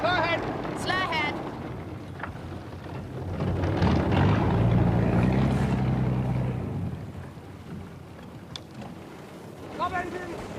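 A boat engine on a river throbs with a low rumble that swells in the middle and then eases, under shouting voices and wind.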